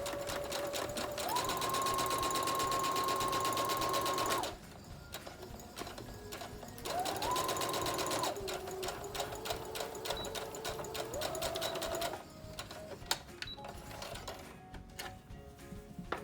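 A sewing machine runs a backstitch with yellow thread on fabric while a dog dress is hemmed, rapid mechanical needle chatter in bursts that stop and restart, with its motor whine rising and shifting pitch, close and steady.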